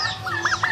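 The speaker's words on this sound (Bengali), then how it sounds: "এই হচ্ছে আমাদের 5 মাস বয়সী মুরগিগুলা ঘাস খাচ্ছে" Five-month-old chickens clucking as they eat grass: a few short, close, rising-and-falling clucks come in quick succession over a low background hum.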